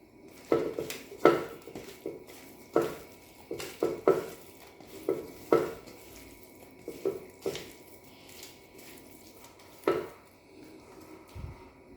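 Sliced chicken being mixed with salt and pepper in a bowl, heard as a series of sharp clinks and scrapes of a utensil against dishware, irregular and close, with quieter gaps and no talking.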